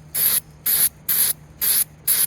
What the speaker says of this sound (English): we'll open up the carb cleaner and close this up. And we're just going to spray down the part on both sides